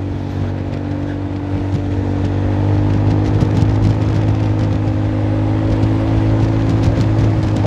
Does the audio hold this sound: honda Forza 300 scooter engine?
yes